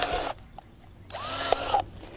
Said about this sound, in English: you just drill a bunch of holes